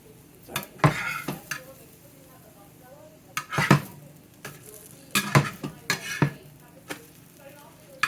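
Pancakes fry in an oiled skillet with soft sizzling, and a spatula scrapes and knocks against the pan in irregular bursts, close by.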